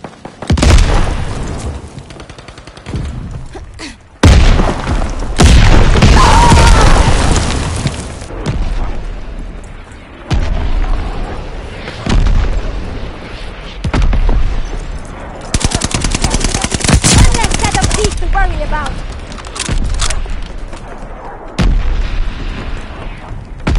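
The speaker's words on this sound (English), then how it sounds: "Mortars incoming!" Incoming mortar blasts in the video game Call of Duty Vanguard, heavy booming explosions mixed with rattling gunfire, loud and close, coming in repeated bursts across a long stretch of battle noise.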